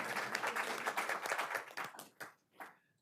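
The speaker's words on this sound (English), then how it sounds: "we're going to give her a clap anyway" An audience at a board of commissioners meeting claps together for about two seconds, the applause then thinning to a few last scattered claps, moderately loud in a meeting room.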